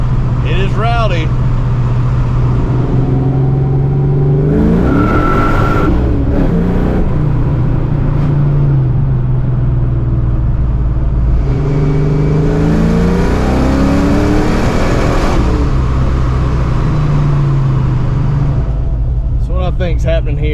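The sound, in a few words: 1987 Saleen engine with 347 swap revving at part throttle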